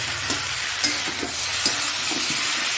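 Fish curry simmering in a pan with stirring, a steady sizzle and bubbling under a few soft scraping strokes of a spoon against the pan, close and fairly loud, with no talking.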